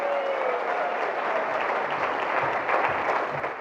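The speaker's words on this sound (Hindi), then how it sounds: "विश्वकर्मा जी के लिए एक जोरदार ताली दोस्तों" Sustained loud applause from a seated audience at a motivational speech event in India, steady dense clapping filling the room for several seconds without talk.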